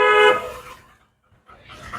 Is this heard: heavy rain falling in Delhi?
no